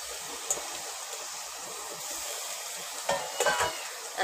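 Chicken pieces frying in a pan with onion and masala for a spicy chicken curry, a steady broadband sizzle throughout with a few scraping stirs and clinks near the end, close and continuous, no talking.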